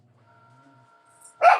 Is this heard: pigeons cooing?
no